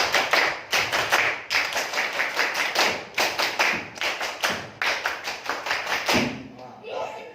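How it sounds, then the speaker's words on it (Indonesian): A classroom of children does the Indonesian scout clap, a loud, tightly synchronized rhythmic pattern of hand claps repeating in quick bursts for several seconds, then breaking off as a few voices are heard. "Tepuk pramuka"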